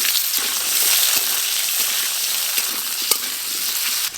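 Diced potatoes fry in hot mustard oil, a bright continuous sizzle with scattered pops and a few stirring knocks, close and steady with no talk.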